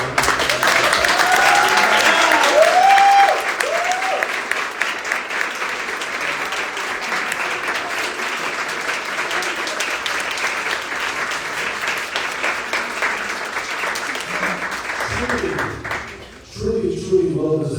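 Sustained, loud applause from a large audience at a ceremony, dense clapping throughout with cheers and voices mixed in, tapering off near the end.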